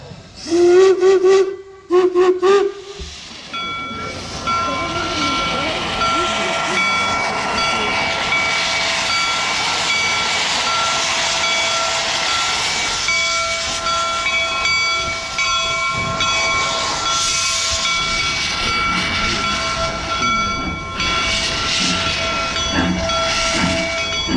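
Steam locomotive Jupiter No. 119 gives loud, sharp whistle blasts, then settles into a long, steady hiss of escaping steam with a sustained whistle tone as it departs, heard alone and close by.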